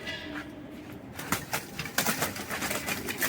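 A pigeon being turned over in someone's hands gives soft coos amid rustling and fluttering handling noise, close and continuous through the moment.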